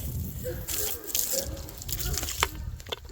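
Water splashes and trickles onto freshly planted garlic in a garden bed, coming in short gushes and drips, with light background noise.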